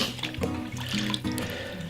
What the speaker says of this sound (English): Rinse it in hot water, or however the instruction on yours calls for.